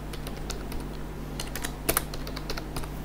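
Typing on a computer keyboard while drawing in AutoCAD: a steady patter of close, light key clicks with a couple of sharper presses near the middle, over faint room hum.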